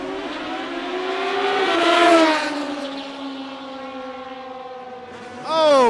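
A Kawasaki and a Suzuki Hayabusa motorcycle launch in a drag race, engines rising in pitch to a loud peak, then droning away before another bike revs sharply at the end.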